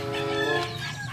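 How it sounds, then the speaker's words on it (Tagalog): Chickens cluck and call close by in a dense, continuous run of throaty, tonal vocalizations, loud and unbroken, with no human voices. "So, tignan natin yung mga manok."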